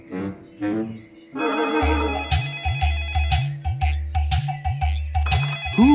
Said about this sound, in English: his phone rang